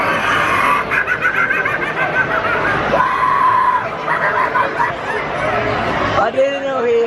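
A Spirit Halloween animatronic lets out a shrill, wavering scream inside a busy store, mixed with overlapping chatter and laughter from nearby people.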